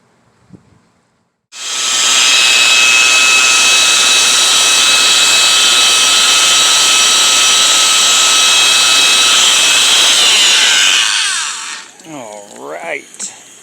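Machine sanding of very rare petrified wood with 400 grit, a loud steady broadband whine and hiss running continuously for about ten seconds, starting abruptly after a quiet moment and winding down at the end, with faint voices briefly around it.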